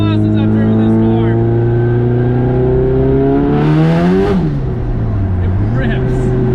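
An LS3 V8-swapped Pontiac Solstice revving hard as it accelerates, a loud, close engine note climbing steadily in pitch, then briefly dropping and rising again through a gear change.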